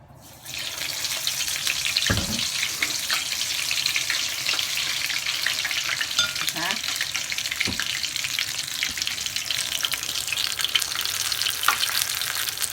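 Wasabi tempura fries in hot oil with a dense, continuous sizzle and crackle, close and steady throughout, with a few faint clinks of utensils and no talking.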